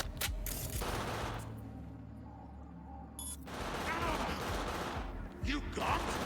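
Rapid bursts of gunfire from the video game Cyberpunk 2077, loud and dense at the start and again in the final seconds, with a quieter lull in between and a voice talking over parts of it.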